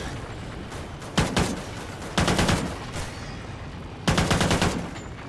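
Gatling gun fire in the video game Call of Duty extinction mode: three separate rapid bursts of dense, continuous automatic shots, each about a second long, with quieter game ambience between them.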